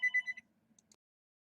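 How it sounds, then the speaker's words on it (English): A telephone rings in a few quick electronic bursts, fairly loud and close, then stops, with faint quiet movement after and no talking. "hold on, the phone's ringing yet again"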